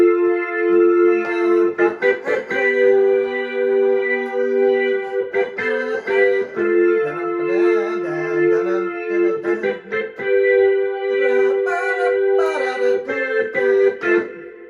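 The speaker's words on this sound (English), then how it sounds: "it has like a cool little like old organ sound to it" A keyboard layer with an old organ tone plays a choppy, rhythmic pattern of sustained chords broken by short gaps. It is loud and close, with no voices.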